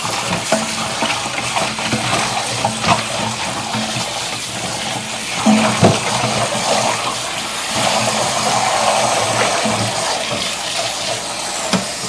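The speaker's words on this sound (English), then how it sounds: "I'm going to give this celery a second rinse." Celery gets a second rinse under a running kitchen tap, a steady splashing rush of water with light handling sounds, no one talking.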